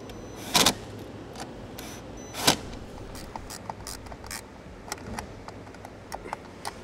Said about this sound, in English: same size screws, we're going to just thread into the side.